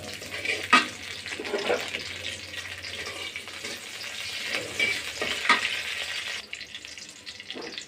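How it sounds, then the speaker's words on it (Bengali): Chopped garlic frying in a little hot oil in a wok while Chinese-style vegetables are cooked, giving a steady close sizzle with a few sharper spatters and stirring scrapes throughout. "অল্প একটু তেল নিয়ে নিলাম দিয়ে দিব রসুন কুচি"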